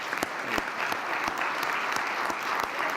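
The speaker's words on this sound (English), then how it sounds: "I'd like to just give you a little round of applause" A small group applauds to honor a county commissioner at a proclamation meeting, steady close clapping with a few distinct sharp claps standing out, continuous for a few seconds with no talk.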